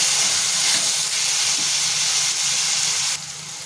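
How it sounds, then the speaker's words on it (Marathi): A large tomato sautés in a hot pan until soft for a prawn masala, giving a steady, loud hiss of steam and sizzle that drops off sharply near the end. "मी छान परतून ते टोमॅटो सॉफ्ट होईपर्यंत आपल्याला शिजून घ्यायचं आहे"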